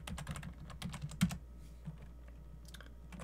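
Rapid typing on a computer keyboard while entering network configuration commands, a dense burst of close keystrokes that slows to a few scattered taps, quiet and with no talking.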